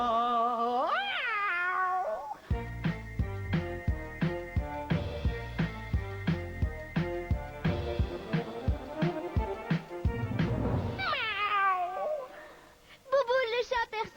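A voice imitates a Persian cat with rising and falling meows at the start and end, separated by a stretch of rhythmic plucked music.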